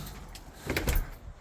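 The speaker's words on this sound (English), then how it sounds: "I'm gonna close this door." A door at a British Columbia holiday cottage swings shut with a brief, muffled thud near the middle, nearby and moderately loud, with no talking.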